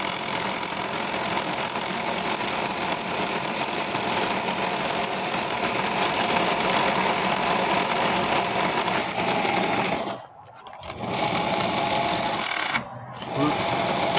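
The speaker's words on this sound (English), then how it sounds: "Now hopefully the blade will come forward further and the cut will be correct" A Meccano-built gear cutting machine grinds steadily as its blade cuts a gear, a loud continuous mechanical whir that briefly drops out twice near the end.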